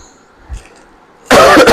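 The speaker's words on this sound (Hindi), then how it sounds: "खांसी आ रही है" A man coughs loudly and harshly near the end, after a faint throat sound and a quiet stretch, close to the microphone and with no talk over it.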